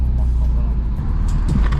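A car driving at night with a low, steady engine and road rumble from inside the cabin, while people talk and shout over it.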